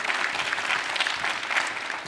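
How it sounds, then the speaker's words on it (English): A comic convention audience in Liverpool claps in a dense, lively round that stays steady and fairly close throughout. "Give him a round of applause."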